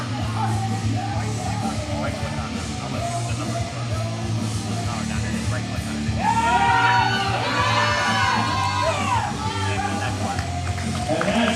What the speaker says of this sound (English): The crowd is going wild for Josh.